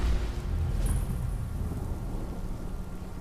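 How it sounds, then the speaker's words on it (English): Rain and a low rumble of thunder in the video game Skyrim, a deep booming roll that is loudest at the start and fades slowly under steady rainfall, with no voices. "I do like the thunder and lightning."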